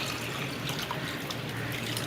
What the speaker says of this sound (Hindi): अब डाल देते हैं पानी।